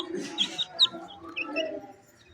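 Desi chicks chirping in a small brood, with several short high cheeps over a soft clucking, fowl-like background; the calls come close by and fairly faint, scattered irregularly across a brief stretch.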